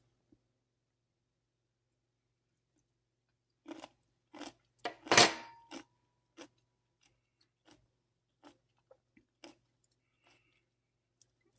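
Crunchy homemade fermented cabbage sauerkraut being chewed, a close burst of loud crisp bites around the middle followed by several quieter sporadic crunches, with no talk.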